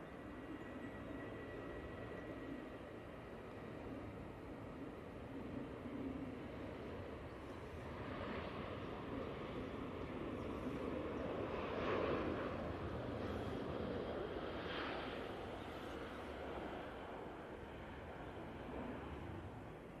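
A Boeing 737 jet at Manchester Airport, heard as a steady, broad engine roar that stays fairly constant and distant, swelling slightly midway with no talk over it.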